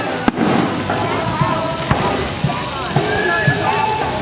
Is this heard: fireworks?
yes